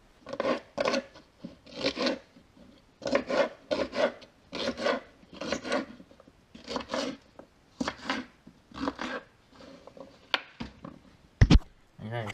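Beans being chopped on a board for homebrew wine, a series of close rasping, rubbing cuts in irregular bursts with short pauses, plus a couple of sharp knocks near the end; a voice is faintly present.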